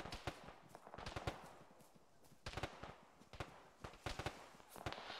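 Gunfire in the military shooter Arma, ShackTac multiplayer session: quick clusters of crisp shots and short automatic bursts, moderately distant, spread unevenly across the stretch with no talk over them.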